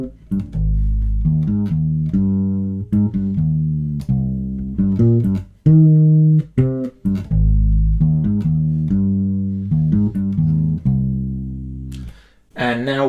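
Fretless bass strung with flatwound strings, both pickups blended at the middle setting, plays a melodic line of sustained, singing notes with smooth slides, loud and close with no talking, ending in a brief noisy handling sound.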